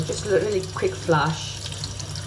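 Tap water runs and splashes softly as a potted plant is watered indoors, a steady light trickle beneath a person speaking briefly.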